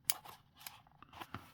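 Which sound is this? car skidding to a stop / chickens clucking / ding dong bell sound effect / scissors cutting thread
scissors cutting thread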